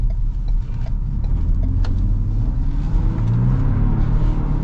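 A 2026 Ford Ranger XLT V6 pickup accelerating from inside the cab, a steady low engine drone and road rumble rising gently in power, continuous and fairly loud with no talking.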